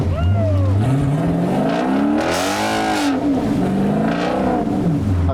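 A Jeep with a 392 V8 engine churns through mud off-road at Windrock, its loud close engine surging and falling in repeated revs as the driver feeds throttle.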